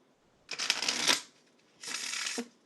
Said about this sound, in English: But I've got the cards for us to get started. I'm shuffling them now.